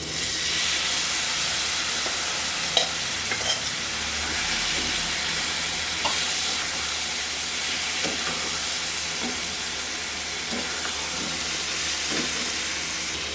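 Winter vegetables hit hot oil with tempering spices, fried onion and garlic, making a steady, even hiss and sizzle with a few soft stirring knocks and no talk.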